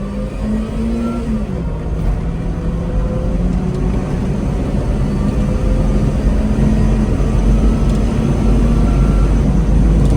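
Supercharged Subaru Sambar kei truck accelerating from a 30 km/h roll, a loud, steady engine drone that builds gradually from inside the cab, with no talking.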